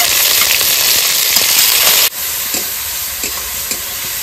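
Spices frying with ginger-garlic paste in a pan give a loud, dense, close sizzle that suddenly drops to a quieter hiss partway through, with a few light stirring clicks after.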